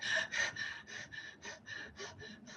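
Rapid, forceful hyperventilation breaths from a rebirthing breathwork session: about ten quick, rhythmic gasping inhales and exhales, close and fairly loud, with no talk.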